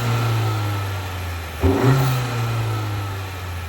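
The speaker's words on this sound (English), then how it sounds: "I'm gonna put the phone like right next to the engine and let you guys hear it." Honda Accord EX turbo engine idling steadily up close, then a single quick rev that swells and drops back to a smooth idle hum with a faint turbo whir.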